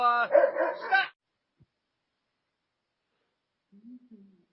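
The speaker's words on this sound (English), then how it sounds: "As you can see, I got some dogs." A dog gives a short burst of barking and whining up close, followed by silence and then a faint, brief whimper.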